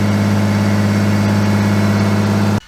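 Nissan R32 Skyline engine idling close up, a loud steady rumble with a slight rough pulse, cutting off abruptly near the end.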